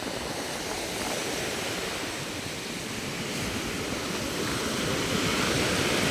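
Big sea waves rolling onto a beach at Bucana after a storm, a steady loud wash of surf with broad, unbroken roar and gradual swells, no voices.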